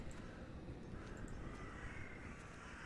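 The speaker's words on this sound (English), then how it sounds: "Birds." Crows caw in the eerie atmosphere of the video game The Last Door, set against a steady bed of wind-like ambient noise, with faint, scattered calls rather than close, loud cries.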